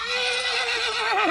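A horse, newly bought and tied up outdoors, gives a loud, sustained whinny with a wavering pitch that fills the whole short moment, close and alone with no talk.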